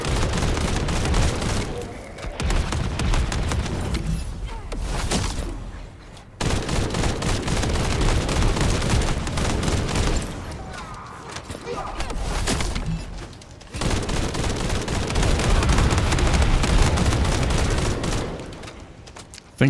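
Rapid gunfire from shooting enemies in The First Descendant, dense sustained bursts of shots with loud impacts and explosions, broken by a few short pauses across the clip.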